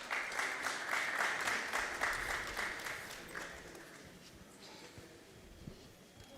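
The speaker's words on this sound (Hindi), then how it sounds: "जोरदार ताली बजाकर उनका सम्मान करें।" An audience at a religious question-and-answer gathering in Semra village, Ranchi, Jharkhand, claps in a loud, rhythmic burst of applause that gradually fades out over several seconds.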